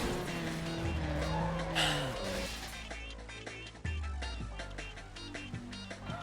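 Cars roar through a drag race in the Need for Speed Underground video game, engines revving and shifting loudly with tire squeal and skidding, a steady close engine drone with sharp gear-change jumps.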